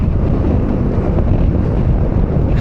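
Heavy wind buffeting the microphone while riding an Aveta Nova 250 scooter, a loud constant low roar with no breaks across the whole stretch.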